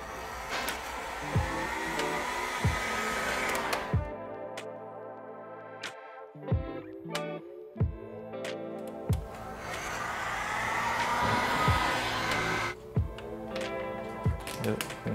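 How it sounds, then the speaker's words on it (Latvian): Handheld hair dryer warming chrome-delete wrap film on car trim, a steady blowing whir that drops away briefly mid-clip and returns, with handling knocks over it; no one talks. "Es iesaku paņemt fēnu un te nedaudz uzsildīt."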